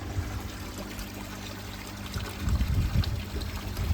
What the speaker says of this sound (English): I'll put a little bit of bicarb in